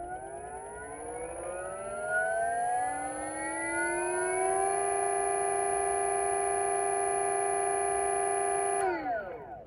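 A go-kart electric motor under a controller's full load current test whines up through rising pitches, then holds a steady high hum for several seconds before winding down abruptly near the end.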